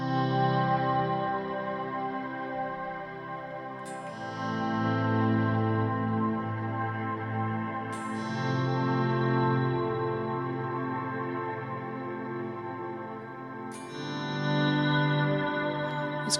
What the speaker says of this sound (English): All I'm going to be using on this side for now is the Strymon Cloudburst reverb. So in terms of guitar swells